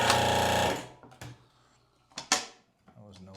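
A VEVOR CH-60 hydraulic hole punch drives through 1/8 inch aluminum plate with a loud, sustained mechanical burst, followed by a few sharp metallic clanks and knocks as the tool releases, close up.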